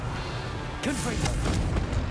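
The Confringo explosive spell in Hogwarts Legacy, heard as several sharp bursts and booms over a steady low rumble, with whooshing sweeps just before the impacts.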